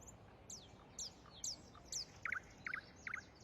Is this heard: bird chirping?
yes